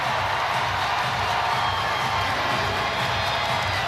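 Sold-out crowd at a women's college basketball game, Duke vs. NC State in Raleigh, roaring in a steady, dense wash of cheering and shouting that fills the arena without pause.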